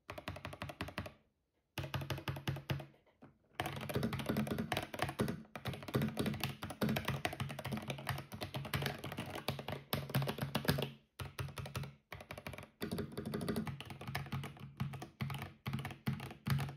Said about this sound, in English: For the switches, I went with the linear ones called Flamingo. The thucky sounds it makes is heaven.